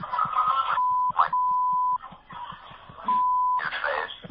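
Radio talk show in which a steady, loud electronic censor tone cuts over speech three times: about a second at first, then a longer stretch, then a third bleep, with talk audible between the tones.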